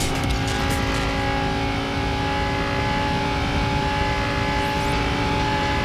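A Lamborghini Gallardo races in the game Racing Master, its engine holding a steady, loud, droning roar throughout with no pauses, and a brief tire squeal near the end.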